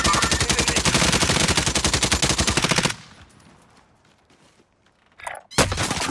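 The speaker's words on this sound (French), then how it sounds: "Il tire dessus." Rapid automatic gunfire in Call of Duty Warzone rattles loud and close for about three seconds, stops, and leaves quiet with faint scuffs before a short burst returns near the end.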